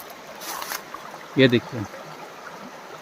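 The Mandakini river flows through a shaded, tree-lined stretch, a faint steady murmur beneath someone speaking briefly up close, with a short rustling burst near the start.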